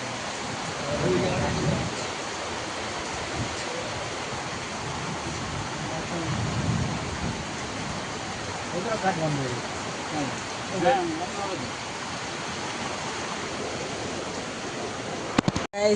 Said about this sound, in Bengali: দেখো পানি হচ্ছে কি জোরে